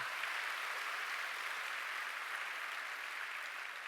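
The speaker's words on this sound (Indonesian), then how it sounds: "Tepuk tangan yang meriah." A church congregation gives steady applause at a service, a dense, even wash of clapping that holds at one level throughout, with no voices breaking through.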